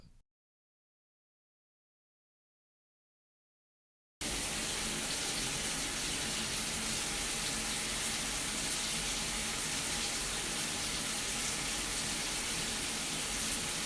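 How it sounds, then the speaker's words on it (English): After a few seconds of silence, a steady rush of running water starts and continues evenly, close and fairly loud, like a shower spraying. "I'm in the shower now."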